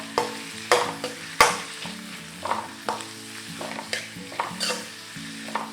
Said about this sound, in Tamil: அதுக்கப்புறம் வெங்காயம் சேர்க்குறேன். இதை வந்து நம்ம நல்லா வதக்கிக்கணும்.